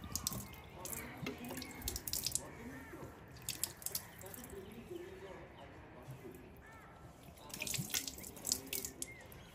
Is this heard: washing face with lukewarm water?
yes